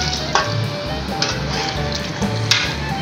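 Water poured into hot oil left from frying taro hisses and sizzles loudly in a cooking pot as the gravy forms, a continuous crackling bubble with periodic sharper spits and stirring clatters.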